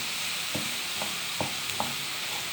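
Three onions soften in a small knob of ghee in a pan, giving a steady close sizzle with a few soft stirring scrapes at an irregular pace.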